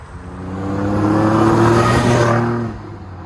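A lifted, Magnuson-supercharged 2011 Jeep Wrangler Sahara Unlimited 4x4 with a 3.8L V6 accelerating, its engine note rising and swelling loudly with a supercharger whine, then easing off after a few seconds.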